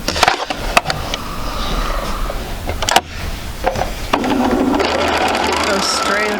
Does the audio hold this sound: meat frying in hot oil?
no